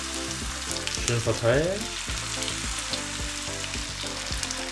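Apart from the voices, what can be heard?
bánh xèo batter sizzling as it fries in a pan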